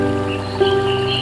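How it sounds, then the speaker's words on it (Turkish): A small waterfall at Karşıyaka pours water over rocks, giving a steady, close rush of flowing water with a faint tonal hum beneath it and no talk. "Karşıyaka'nın küçük ama etkileyici şelalesi"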